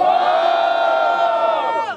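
A crowd at a São Gonçalo street rap battle roars and shouts in a sustained, loud burst of cheering and battle cries for one MC, fading at the end.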